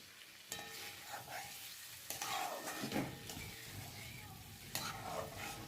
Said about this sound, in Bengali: শিঙি মাছের ঝোল এই যে পেঁপে দিয়ে একটু মশলা দিয়ে ভালো করে কষিয়ে নিচ্ছি